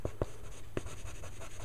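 Derwent drawing pencils sketch on paper, making a few distinct scratchy strokes near the microphone over faint background hiss.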